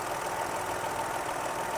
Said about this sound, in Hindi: 3 सिलेंडर इंजन है, थोड़ी वाइब्रेशन आपको दिख रही होगी, right. So this is the vibration.